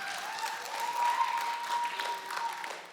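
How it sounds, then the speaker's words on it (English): Applause from a church congregation fills the room, a steady dense wash of many hands clapping at moderate volume throughout, swelling slightly near the middle before easing off at the end. "Another round of applause."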